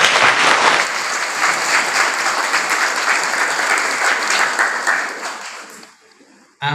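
A live audience breaks into sustained, dense clapping that holds steady for several seconds, then thins and fades out near the end.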